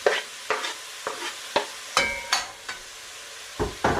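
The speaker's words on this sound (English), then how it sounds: "Give it a stir and then let this simmer down for 3 minutes-ish." A spoon scrapes and clanks through carrot, parsnip and chopped tomato in a pot, with roughly nine distinct stirring knocks spaced irregularly and close by. No one speaks.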